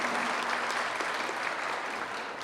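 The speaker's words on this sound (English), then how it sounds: "That's worthy of applause." A forum audience at an event with U.S. Senator Jeff Merkley breaks into steady, dense applause that carries at an even level throughout.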